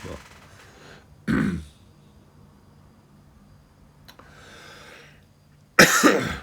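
Two short, harsh coughs come close to the mic, several seconds apart, with a quiet room and a faint click between them.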